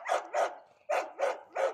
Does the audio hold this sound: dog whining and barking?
yes